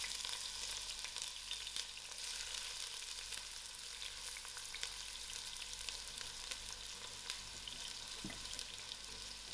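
Onions fry in hot oil in a pot, a dense, even, crackling sizzle that holds steady and close throughout without any talking.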